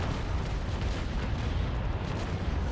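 Cannon fire from a sailing warship in the Naval Action video game makes a steady, dense rumble of booming gunfire, loud and continuous without a break, like a broadside still thundering and echoing.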